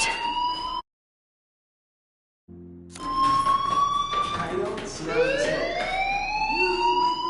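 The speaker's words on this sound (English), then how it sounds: "do you hear that fire alarm? That means you should be outside." A fire alarm sounds in a video game, loud rising-and-falling siren-like wails that cut out briefly near the start and then return in overlapping sweeping tones.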